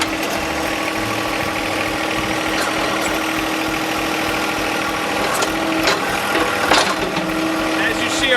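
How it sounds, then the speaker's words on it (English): A John Deere 1025R compact tractor idling steadily nearby while its backhoe outriggers are raised, a constant mid-pitched engine hum with a faint hydraulic strain and a few light clanks toward the end. "Now I'm going to raise our outriggers"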